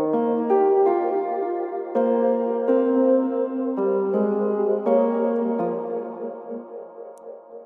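Sampled Kontakt keys with big reverb and delay in a liquid drum and bass arrangement, a melodic run of struck notes at a steady pace with washy tails, heard alone and fading toward the end.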